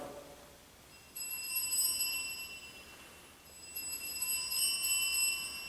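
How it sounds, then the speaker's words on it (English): Jingle bells ring off in the distance: faint, bright metallic jingling in two short bursts separated by a brief lull, over a quiet background. "those jingle bells off in the distance"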